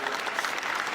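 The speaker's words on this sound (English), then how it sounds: "please give them a round of applause" Dense, steady audience applause for music artists at a Nigerian entertainment conference in 2017, loud and continuous for the whole moment with no gaps.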